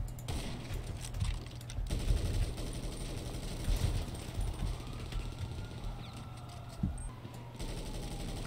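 Rapid bursts of gunfire in GTA 5 free-for-all sniper PvP play, crackling steadily at moderate loudness amid busy game noise, with clicking that resembles keyboard typing and no voices.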